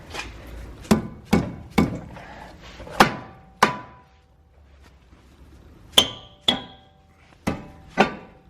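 Sharp metallic hammer blows knock an old front brake rotor off a 2011-2013 Hyundai Sonata Hybrid, about ten ringing strikes in irregular bursts with short pauses, close and loud.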